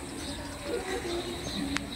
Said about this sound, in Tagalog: iba't ibang mga ibon naman ang naririto